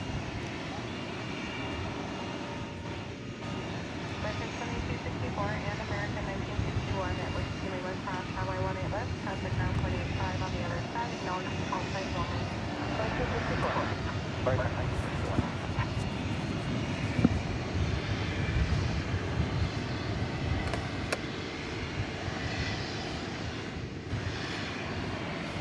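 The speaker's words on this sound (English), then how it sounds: "There goes the 767, headed across runways 18 right and left." A Boeing 767 jet taxiing across runways 18 right and left at DFW Airport at night, giving a steady distant engine rumble throughout, with people talking over it.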